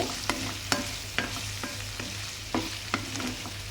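Raw prawns fry in a pan with a steady background sizzle, punctuated by about eight sharp scraping clicks as they are stirred, close and moderately loud, with no talking.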